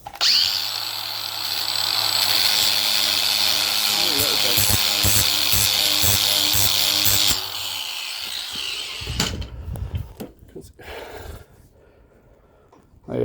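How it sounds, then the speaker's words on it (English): An angle grinder fitted with a flap wheel runs along a mower part's edge to sharpen it, a loud steady whine for about seven seconds before stopping, followed by scraping handling noises and someone talking. "I'll just take the grinder with a flappy wheel on it, and I'll run it along the edge"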